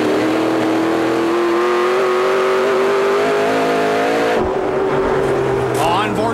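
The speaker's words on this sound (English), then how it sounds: "With Scott Steckley, you can hear him feather the throttle, and you actually hear the bumps in the racetrack, Dave." A full-bodied stock car engine at a short-track Keystone Light 200 race roars loudly and steadily, the driver feathering the throttle so the pitch wavers slightly over track bumps, before the note shifts as the car passes.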